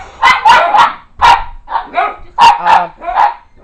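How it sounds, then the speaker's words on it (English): Several pet dogs indoors bark in quick, loud bursts close by, yipping repeatedly in an irregular rhythm, with no talking over them. "I just can't control my dogs barking."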